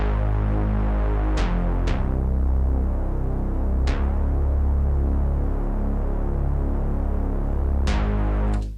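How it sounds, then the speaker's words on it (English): A bass preset on the MyTie VST synth plays a plain, steady passage of deep sustained notes, loud and continuous for the whole stretch with a few sharp note changes, no voices. "I've got a bass preset loaded, so let's go ahead and play this back and hear how it sounds before adding any automation."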